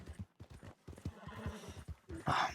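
Horse hooves clip-clop in a steady rhythm in the Red Dead Redemption western game world, then a horse whinnies loudly near the end, close and clear over faint background.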